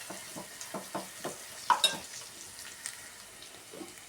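Turmeric and ginger being stirred into curry in a pan, a soft repeated scraping rhythm over a faint sizzle, quiet and close.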